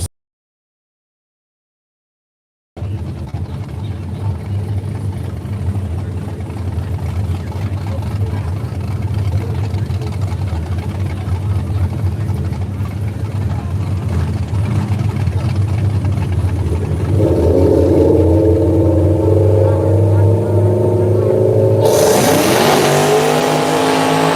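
Drag race cars at a no-prep outlaw event roar off the line and accelerate hard, one running nitrous, a loud sustained engine drone that rises in pitch and intensity toward the end.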